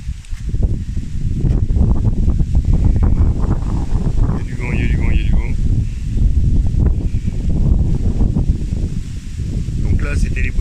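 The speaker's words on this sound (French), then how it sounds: "Il y a du vent." Wind buffets the microphone in a vegetable garden with beetroot rows and tomato cuttings, giving loud, gusty low rumbling that rises and falls throughout, with a faint rustle now and then.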